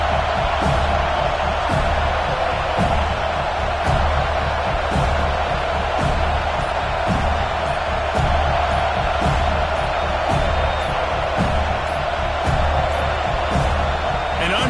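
Stadium crowd noise in the NCAA 26 college football video game, a steady loud roar that builds pressure on the kicker before a field goal attempt, continuous throughout with faint commentary-style voices mixed in.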